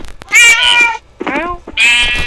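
In a zombie video game, a voice imitates a cat with three loud, close, rising meows separated by short pauses.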